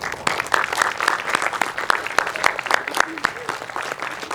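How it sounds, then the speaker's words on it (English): An audience at an art exhibit opening applauds with dense, continuous clapping, sharp individual claps standing out over the crowd, while a voice speaks faintly underneath. "Raise your hand so we can give you a big round of applause."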